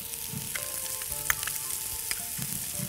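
Onion and garlic sizzle steadily in butter in a pan for a kitchen meatball sauce, with a spoon stirring and scraping against the pan and a few sharp clinks over the constant fry.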